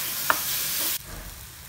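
Chopped tomatoes dropped into frying masala in a pan for pearl spot fish, giving a brief clatter and then a steady loud sizzle that cuts off sharply partway through, leaving a quieter hiss.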